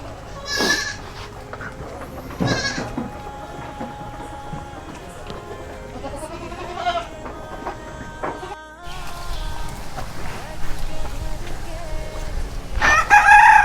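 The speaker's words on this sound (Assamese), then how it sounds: "এইবোৰ চাওক এইবোৰ চব গাভীন ছাগলী" Assam Hill goats, pregnant does on a farm, bleat several times near and far, a rooster crows in the background, and ambient farmyard noise continues throughout.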